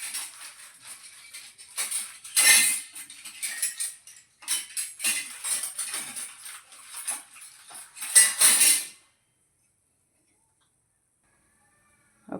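A metal spoon slowly stirring food cooked in ghee in a pan for an evening snack, with repeated uneven scraping and clinking strokes for about nine seconds before falling silent.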